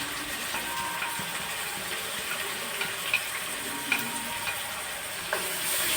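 Ginger-garlic paste and green chillies sizzling in a pan for ghee rice, stirred with light scraping and small clicks over a soft steady fry, close and without talk.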